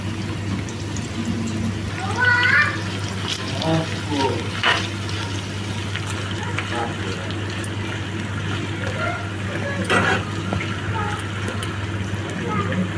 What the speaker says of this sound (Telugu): నూనె వేడెక్కింది ఇప్పుడు దీంట్లో కాకరకాయ ముక్కలన్నీ వేసుకోవాలి ఇవి దూరగా ఫ్రై చేసుకోవాలి